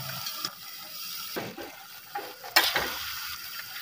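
Tomatoes and red chilies sizzle in a pan in a village kitchen, with steady frying hiss and occasional stirring scrapes throughout.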